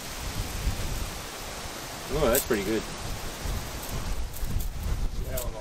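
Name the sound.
water spraying from DIY solar camper shower hose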